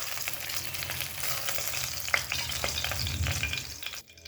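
Pieces of rohu fish browning in hot mustard oil in a kadai, a continuous close hissing sizzle with light spattering pops and a sharp clink near the middle, cutting off abruptly at the end; no talking.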